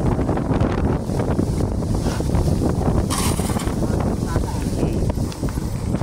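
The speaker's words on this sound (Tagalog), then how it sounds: "Grabe yung hangin." Strong wind roars steadily against the microphone across open farmland, a dense, constant rumble with gusty buffeting throughout.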